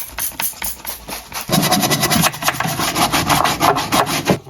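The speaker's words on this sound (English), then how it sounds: "I'm going to do the same in there, but I'm going to start off with the brush." A stiff brush scrubs hard at baked-on grease inside a dirty oven, a loud, steady scratching rasp that grows heavier partway through and keeps up in quick repeated strokes, with no one talking.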